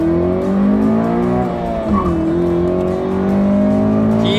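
A powerful car accelerates on a driver training course, its engine revving loud and close with rising and falling pitch, and tires squeal as it turns.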